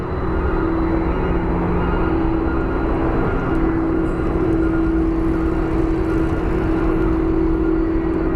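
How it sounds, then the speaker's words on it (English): Boeing 767 jet at Phoenix Sky Harbor airport, a loud continuous engine roar with a steady whine, heard from nearby without pause. "Here's our 767 headed to Chicago or Rockford"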